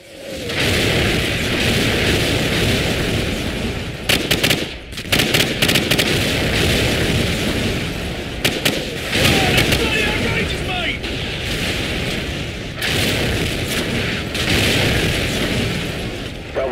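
Artillery shells land close in a Call of Duty 4 battle, heavy deep booms rolling one into another with sharp cracks of gunfire on top, loud and continuous, while faint voices talk underneath.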